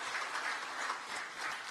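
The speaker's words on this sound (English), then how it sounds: "Round of applause, ladies and gentlemen." Audience applause at the grand finale of a challenge contest in Uganda, after a cash prize is handed over: a short, faint, distant-sounding patter of many hands clapping, steady and unbroken.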